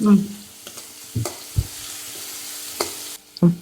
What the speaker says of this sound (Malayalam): വെളുത്തുള്ളി പൊടിയായിട്ട് അരിഞ്ഞതാണ്, അത് ചേർത്ത് കൊടുക്കാം.